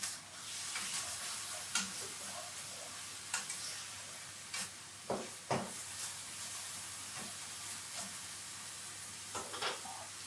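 Bacon lardons sizzle steadily in a pan while being cooked for a homemade leek tart, with a constant frying hiss broken by occasional sharp pops and clicks of stirring; no voice is heard.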